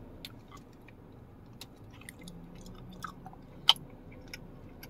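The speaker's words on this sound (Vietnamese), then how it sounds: "Khi mình ăn á, mình nhai xong là mình bỏ cái sáp này đi nha" Soft, close chewing of a wax candy with a liquid filling, with faint squishy bites and small crisp clicks spread irregularly over a quiet background.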